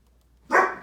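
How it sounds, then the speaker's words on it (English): A single sharp dog bark bursts out close by after a moment of near silence. "right now they're going to start to bark"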